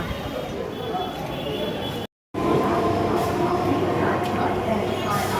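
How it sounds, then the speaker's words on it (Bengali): Trains at Serampore railway station rumble steadily with broad, continuous rail noise and wagon clatter, close and fairly loud, broken by one brief cut of silence partway through. "ওইদিকে দুটো ট্রেন"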